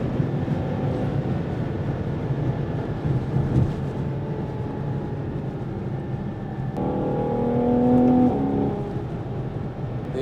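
A Ferrari Purosangue, 2025 model, pulls hard uphill on the autobahn, its steady engine drone and road roar loud and continuous, the tone climbing and swelling near the end.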